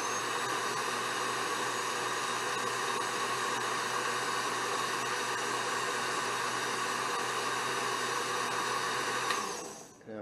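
An Oster blender purees spinach pesto in a mason jar, giving a loud, steady motor whir and grind that holds level throughout and then cuts off near the end.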